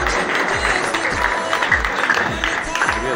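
An audience at a Urdu poetry gathering claps warmly, a steady run of close applause with audible individual hand claps lasting a few seconds.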